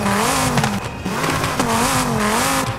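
A loud Dodge Viper engine in Forza Horizon 5 revs repeatedly, the exhaust note climbing and dropping through gear shifts in a rhythmic racing pattern, close and continuous.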